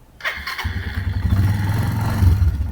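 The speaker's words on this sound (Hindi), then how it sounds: "गाइस आपको बाइक का साउंड टेस्ट कराते हैं।" A Suzuki Grass Tracker Big Boy motorcycle with a long, beefy exhaust starts up and settles into a steady, throbbing idle with a few light blips, loud and close with nobody talking.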